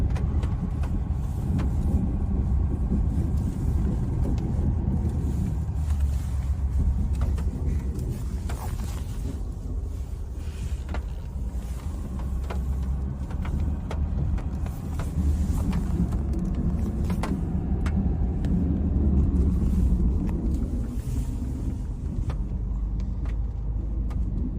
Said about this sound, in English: We're gonna get a running start. Drop the plow. We're in 4. We're chugging up.